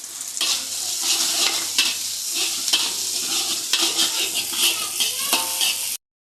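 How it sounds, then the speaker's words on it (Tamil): Garlic and chillies fried in a pan for a Maggi noodle dish, a loud close sizzle with stirring scrapes and knocks throughout before cutting off abruptly. "இந்த பூண்டும் இந்த மிளகாவையும் போட்டுருவோம்"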